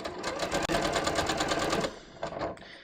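A sewing machine stitches a seam on a bias-cut scoop neck top, running in a steady fast whir for about two seconds before stopping, followed by a few faint handling noises.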